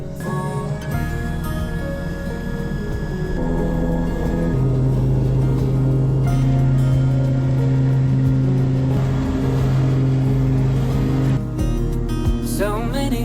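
Steady drone of a small plane's engine heard from inside the cockpit, loud and continuous with a sustained tonal hum that shifts pitch partway through, no talking.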